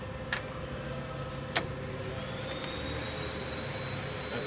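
A Milltronics CNC/manual flat bed toolroom lathe runs with a steady mechanical hum and faint rising whine, and a couple of sharp clicks stand out early on.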